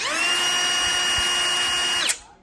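A Dewalt variable-speed trim router whines at a high, steady pitch for about two seconds, then switches off and winds down quickly.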